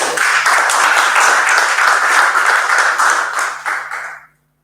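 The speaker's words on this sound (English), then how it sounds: "I think we need to give that a round of applause" A loud, steady round of audience applause at a virtual unveiling function honouring women's football runs for about four seconds, then cuts off abruptly, with a faint low hum underneath.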